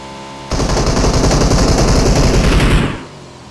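Automatic gunfire in the mobile game PUBG Mobile: one loud, unbroken burst of rapid shots lasting about two and a half seconds, then it stops abruptly, with no talking over it.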